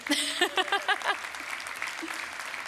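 Applause from an audience at a conference panel on CIO Day, starting as a short spoken phrase ends, then continuing as a moderate, fairly thin patter of clapping that stays steady to the end.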